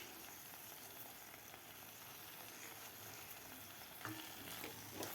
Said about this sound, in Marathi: आपल्याला 1 मिनिटभर या मसाल्यामध्ये तोंडली व्यवस्थित परतून घ्यायचे आहेत